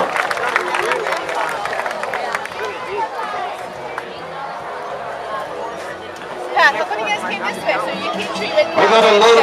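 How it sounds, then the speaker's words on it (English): Rodeo crowd at a state fair arena claps and cheers for a cowboy, a dense babble of voices and applause swelling toward the end, with an announcer talking over it. "Give Bronson a round of applause"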